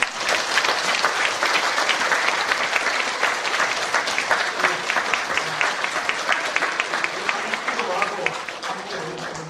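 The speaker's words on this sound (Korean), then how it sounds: "우리 박수로 환영하겠습니다." A church congregation applauds steadily and close by for several seconds to welcome a guest, the clapping dense and even throughout.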